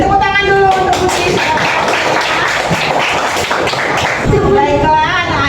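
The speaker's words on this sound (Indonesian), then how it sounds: "beri tepuk tangan dulu untuk Putri" A school classroom of children applauds a classmate named Putri, a burst of many small hands clapping that swells and then fades, with a teacher's voice heard at the start and end.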